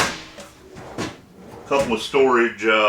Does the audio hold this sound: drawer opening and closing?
yes